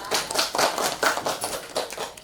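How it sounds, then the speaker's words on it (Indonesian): Schoolchildren in a classroom clap their hands together in a burst of applause, a dense, uneven patter of many hands at close range with faint voices mixed in. "tepuk tangan buat kalian karena kalian hebat"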